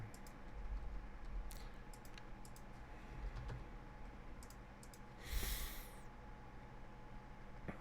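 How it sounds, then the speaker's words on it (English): Keyboard typing at a computer during an online PC class, a quiet run of light key clicks spread across the whole stretch, with a brief louder burst of noise partway through and no talking. "And then we got to type these in."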